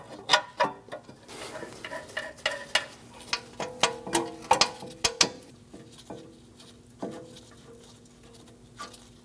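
A hand ratchet tightens the rear brake caliper bracket bolts on an Audi Q5, giving a run of quick, sharp clicks close by. The clicks come in short bursts separated by pauses, with no talk.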